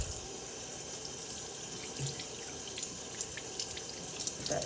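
Cold tap water runs steadily into a sink while a dress is washed by hand, a faint continuous splashing hiss with small drips and sloshes near the end.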